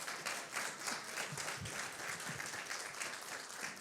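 Steady applause fills a church during an Advent service, a continuous even patter of many hands that holds at a fairly constant level from start to finish with no voices standing out.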